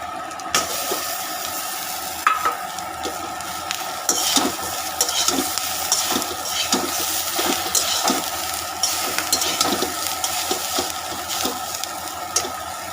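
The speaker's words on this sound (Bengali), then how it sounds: "এই যে এরকম পজিশনে এসে আমি এর মধ্যে আলু ভাজাগুলো মিশিয়ে দেবো" Fried potato pieces stirred into a sizzling pan of dal tempered with ajwain, with a continuous loud frying hiss and repeated scraping, clinking stirs heard close and alone.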